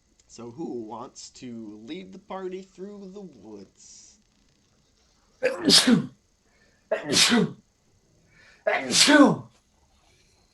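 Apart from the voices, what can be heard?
sneeze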